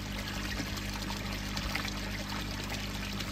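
Water pours steadily into a fish pond from a return, a constant close splashing trickle that holds unbroken and fairly loud the whole time.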